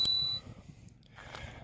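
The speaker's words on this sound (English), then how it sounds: "You have a bell," The handlebar bell on an EVERCROSS EV10Z electric scooter gives a single bright metallic ding that rings briefly and fades, followed by a quieter rustle of handling.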